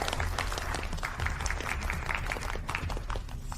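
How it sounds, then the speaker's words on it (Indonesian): Audience applause as a group goes up onto a stage at a presentation event, steady dense clapping filling the whole stretch at an even level with no talk over it. "mari kita berikan tepuk tangan untuk grup Feng naik ke panggung"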